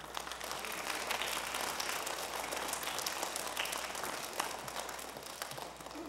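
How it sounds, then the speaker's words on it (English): A kindergarten graduation audience claps for parents and grandparents, a sustained wash of mixed applause from a crowd in a room, fairly soft and even, fading a little at the end. "Let's clap for our moms and dads and grandmas."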